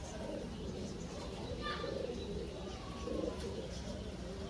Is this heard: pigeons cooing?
yes